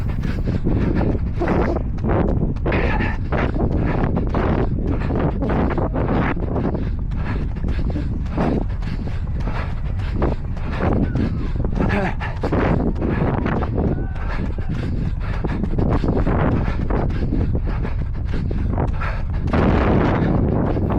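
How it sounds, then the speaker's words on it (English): Heavy wind buffets a microphone carried by a runner outdoors during a 5k race, a loud continuous rumbling roar with rhythmic gusty surges matching the stride, and a voice talking faintly underneath. "As you can tell, we are back into the wind."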